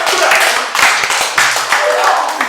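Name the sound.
audience applause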